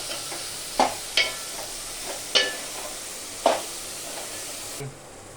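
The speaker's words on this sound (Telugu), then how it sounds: "మూత పెట్టి కాసేపు వేగనిద్దాం" Dried fish curry with brinjal frying under a lid in a pan, giving a quiet, steady sizzle broken by a few sharp clinks and stirs before the sound drops off at the end.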